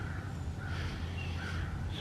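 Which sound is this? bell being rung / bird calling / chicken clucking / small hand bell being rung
bird calling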